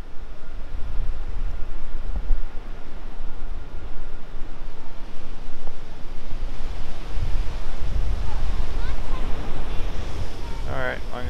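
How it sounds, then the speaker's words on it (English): Pacific Ocean surf at Santa Monica Beach on a cool, foggy day, a steady broad roar of breaking waves mixed with wind buffeting the microphone, with faint voices at the end. "welcome to the Pacific Ocean."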